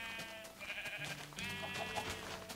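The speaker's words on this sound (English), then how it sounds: "Oh yeah, you take that sheep." A couple of wavering sheep bleats from the video game Minecraft, mid-loud and close, each cry drawn out over a faint background hum, with no talking.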